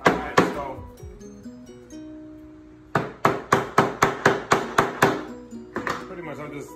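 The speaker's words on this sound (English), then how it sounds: "hammering the nails to the side, the ones that came through." A hammer strikes nails into wood repeatedly: a few blows, a pause with faint ringing, then a quick steady run of about ten sharp hits followed by several more.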